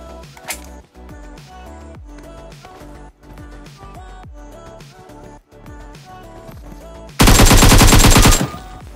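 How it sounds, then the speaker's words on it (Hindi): Gunfire in a shooting video game comes as a steady series of close, sharp shots in an even rhythm, then a much louder continuous automatic burst near the end. "वो वापस वहां पर आया और मुझ पे फायरिंग करने लगा"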